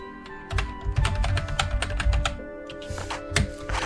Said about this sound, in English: My keyboard is quite loud as well